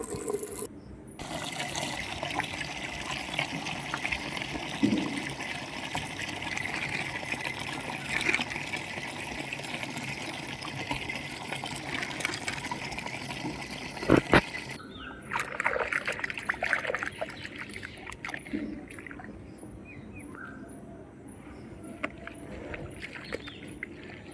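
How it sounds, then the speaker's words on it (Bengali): Running water pours and trickles steadily while clothes are put to soak, a continuous low splashing wash lasting the whole stretch, with a brief louder clatter partway through and a quieter, patchier flow afterwards. "তো চলো আমি জামা কাপড়গুলো এখন ভিজিয়ে নিই।"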